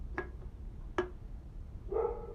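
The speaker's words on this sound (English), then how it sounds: "Dog is barking." A dog barks faintly and at a distance, two short sharp barks about a second apart followed by a softer whine-like yelp, over a low background rumble.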